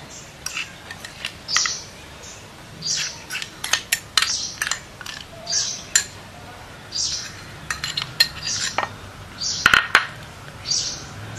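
A spoon clinks and taps against a vessel in irregular bursts while jaggery is stirred into sapota kheer, the bright metallic knocks close and fairly crisp over a quiet background.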